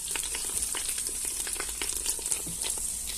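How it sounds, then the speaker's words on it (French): Endives sizzle and crackle steadily in melted butter, a close, continuous frying hiss with small pops throughout. "Et on va mettre nos endives pour les faire braiser."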